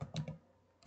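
Quick clicks on a computer keyboard while entering AutoCAD VBA code: a short burst of three keystrokes, a pause, then one more, close and fairly quiet.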